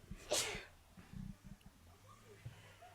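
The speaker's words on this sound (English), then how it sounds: "Sneeze." One sharp, close sneeze bursts out near the start, followed by quiet breathing and a few soft murmurs.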